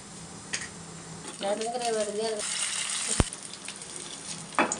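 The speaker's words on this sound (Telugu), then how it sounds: "జీలకర్ర వేసాను ఫ్రెండ్స్, ఎండుమిరపకాయలు వేసాను, కరివేపాకు వేసాను. పోపు పెడుతున్నాను." Cumin, dried red chillies and curry leaves sizzle in hot oil for a tempering, a steady close frying hiss with a brief tonal whine midway and one sharp clack.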